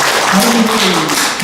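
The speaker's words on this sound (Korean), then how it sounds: "박수 한번 쳐주세요." Audience applause at a lecture on the North–South Korea conflict, a dense burst of clapping from a crowd that stays loud and close for its brief duration, with a voice faintly mixed underneath.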